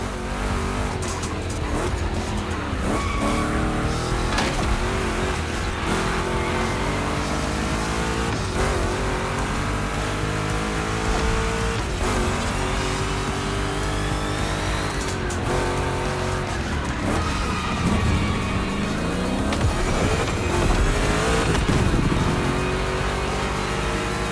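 Two Chevy big-block race cars in The Crew Motorfest roar through a gymkhana event, engines loud and continuous with rising revs, gear shifts and tire squeals throughout.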